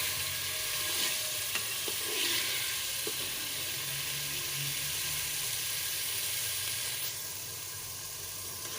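Cut pumpkin pieces frying in a pan for a pumpkin dal, giving a steady, close sizzle throughout with faint stirring scrapes and no talking.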